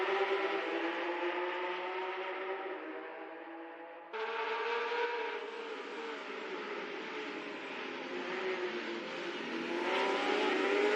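Race cars accelerating together off the start at Virginia International Raceway in a virtual racing game, a loud, dense roar of engines that holds steady, jumps abruptly and keeps rising, with no talk.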